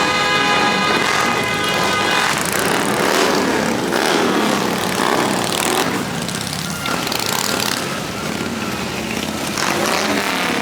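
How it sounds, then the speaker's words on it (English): A steady roar of engines passes close by as a stream of motorcycles and cars rides past in a holiday toy drive parade, loud and continuous with shifting revs. "Here come all the cars and all the motorcycles, Gracie."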